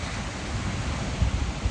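Sea at full high tide in Mumbai during monsoon rain, a dense continuous roar of surf mixed with heavy wind buffeting the microphone, loud and close with a low rumbling swell, no voices.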